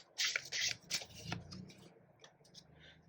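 Tarot cards are shuffled close by, several quick crisp riffling bursts at the start, followed by softer sliding and tapping of the cards.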